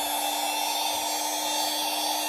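A STARUMENT cordless handheld vacuum cleaner running on its first setting, a steady close motor whine with a constant hum and airy hiss, loud and unchanging, with no talking.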